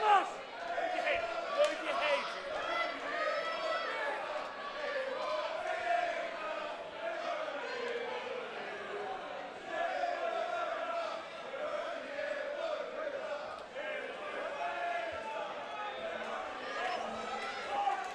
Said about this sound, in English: Crowd, really good voice here tonight.